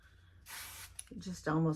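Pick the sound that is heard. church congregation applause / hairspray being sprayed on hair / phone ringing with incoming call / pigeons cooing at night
hairspray being sprayed on hair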